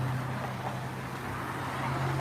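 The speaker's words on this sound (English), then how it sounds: "Although the traffic is unreal here." Traffic on a busy main street in Kennett Square, Pennsylvania at rush hour, a steady low engine hum of an idling or passing vehicle with constant road noise.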